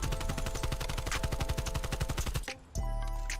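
An AK-74U fires rapid automatic bursts in the video game Call of Duty: Black Ops Cold War, loud and close with a fast even rhythm, then a brief pause before a final shot.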